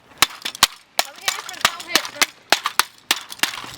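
A canister being smashed open, heard as a quick run of sharp, loud cracking pops and clanks, some spaced, some in tight bursts, close by with no voices.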